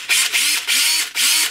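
DeWalt 785 power tool running after new carbon brushes are fitted, a loud whirring motor that starts and stops in three or four short close bursts with no talk.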